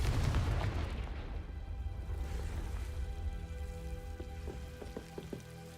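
The Confringo explosion spell going off in Hogwarts Legacy: a booming blast at the start that rolls out into a fading rumble, followed by a few faint clicks near the end.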